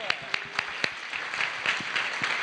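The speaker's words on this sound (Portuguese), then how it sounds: "Salve de palmas" A church congregation in Brasília applauds after a sermon: a few sharp, separate claps at first, then a dense, steady wash of clapping that carries on at an even level to the end.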